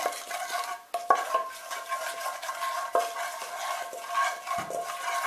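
Steady scraping and clattering of vegetables being stirred in a bowl, continuous and close, with no talking.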